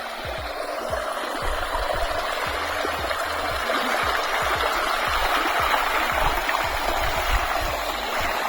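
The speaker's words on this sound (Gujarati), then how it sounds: "પાણી જોઈ શકો અત્યારે કેટલું જઈ રહ્યું છે" Irrigation water runs through channels in a fenugreek field, a close, steady gurgling stream with rapid low splashing pulses at an even level, with no voices.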